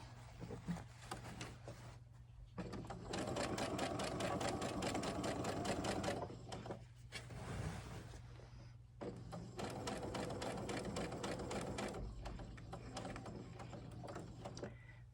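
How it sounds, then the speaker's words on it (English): A sewing machine stitches elastic in two long, steady runs of rapid needle clatter, with a short pause between them and no talking. "I just started sewing"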